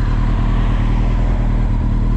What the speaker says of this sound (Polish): O, jest motocyklista.